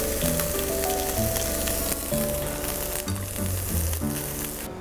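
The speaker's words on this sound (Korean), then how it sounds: "같이 곁들일 가리비와 아스파라거스를 볶겠습니다" Scallops and asparagus stir-frying in a hot pan give a steady, close, bright sizzle that never lets up, with soft background music playing underneath.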